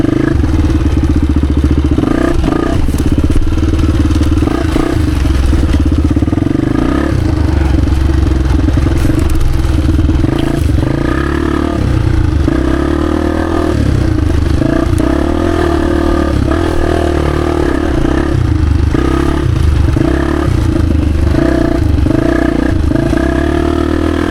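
A 1996 Honda XR250 dirt bike is ridden through woods, its engine loud and close throughout, revving and pulling hard with shifting pitch, plus rattles and clatter from the terrain.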